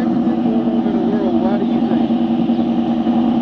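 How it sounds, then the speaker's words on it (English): A nearby car idling near a courthouse, its engine giving a loud unbroken low rumble that persists beneath voices talking over it. "Turn your car off. I can't hear."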